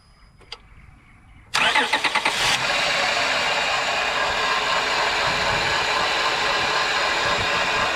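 A 2009 Hemi Ram 1500 V8 cranks briefly with a few starter chugs, catches, and settles into a steady loud idle up close, after a few faint clicks.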